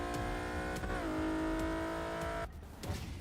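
A Toyota Celica racing against a Porsche 918 in Forza Motorsport 6, its engine droning loudly with steady harmonic tones. The pitch rises, dips at a gear change, holds, then cuts off abruptly near the end.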